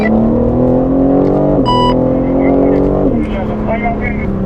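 A BMW M3 or M4 pulls hard under acceleration, its engine and exhaust droning loud and close with rising pitch and two quick gear-change dips, while someone talks over it.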